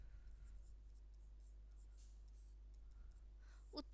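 A pen scratching across paper in short, faint strokes over a low steady hum, with a brief louder tap near the end.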